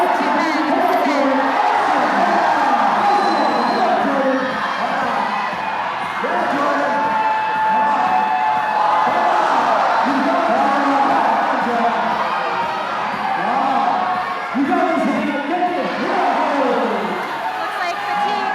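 A crowd at an indoor bouldering competition cheers, whoops and yells continuously, while a commentator talks over the noise throughout.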